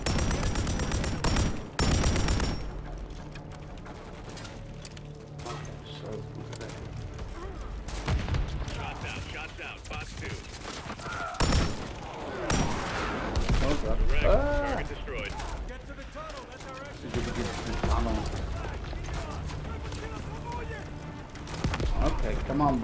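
Call of Duty Modern Warfare 3 campaign combat around a courtyard tower: repeated bursts of gunfire and heavy artillery blasts at varying distances, with shouting voices over much of the battle.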